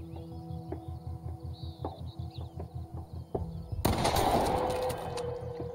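A single loud shotgun blast in The Quarry video game, a sharp burst that cuts across a rhythmic pulsing background tone and then trails off into a rumbling decay.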